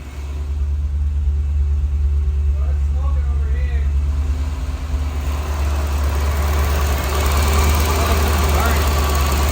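A 1986 Chevrolet Corvette engine idles with a steady, loud low rumble and slight vibration throughout, while people talk over it.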